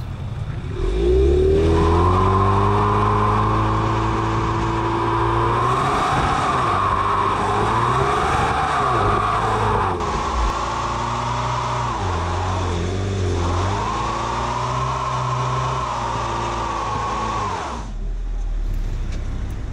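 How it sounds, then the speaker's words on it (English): A 2020 Ford Mustang 4-cylinder turbo automatic doing a brake stand, with a loud, sustained engine roar that revs and wavers and tire squeal over it for about sixteen seconds before it cuts off. "That was a heck of a brake stand."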